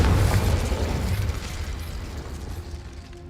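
A Confringo fire spell blasts in Hogwarts Legacy, a loud booming explosion right at the start that rumbles and slowly fades over a few seconds.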